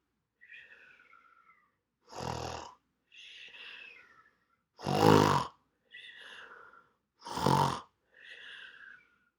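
A person imitates snoring with a voice, making three loud rasping inhales, each followed by a softer whistling exhale, alone in a quiet room.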